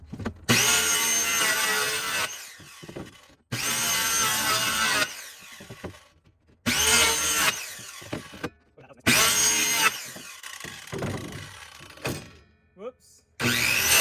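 A power saw cuts through hobby plywood to remove a 20 by 20 inch square, in several loud bursts with short pauses between them, and a voice is heard briefly.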